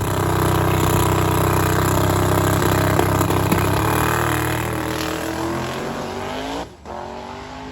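A drag car running on only 7 cylinders roars steadily at full throttle during a pass, its loud engine note holding then slowly rising and fading as it pulls away, with a sharp dip near the end.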